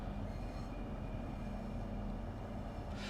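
A Southeastern High Speed Class 395 Javelin train runs in the Train Sim World 2 video game, producing a steady, loud rumble of rolling wheels and traction hum that holds through the stretch with no talking.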